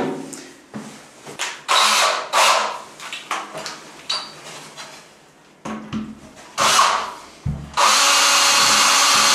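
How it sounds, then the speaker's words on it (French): Power drill with a metal bit boring through a metal rail during shower column installation in a bathroom, loud bursts of whirring and grinding separated by short pauses, ending in a sustained run. "il faut que j'aille chercher une mèche à ferraille pour passer par-dessus à travers le rail"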